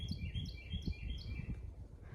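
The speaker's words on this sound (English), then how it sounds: "that's an eastern towhee that you hear behind me, chirping away" An eastern towhee chirps in repeated bright, high-pitched phrases along a songbird-filled trail at Hanging Rock, moderately near, over a low rumbling outdoor background with no one talking.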